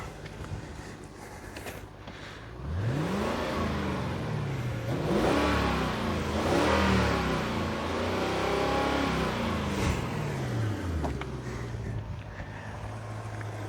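A Lexus LS430 Ultra with 121,000 miles has its engine revved up to around 4,000-5,000 rpm in repeated rising and falling sweeps, close and fairly loud, with no talk.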